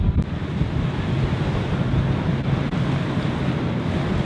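High sea waves beside mackerel fishing boats at sea, a loud, steady roar of surf and wind buffeting the microphone that fills the whole stretch without any voices.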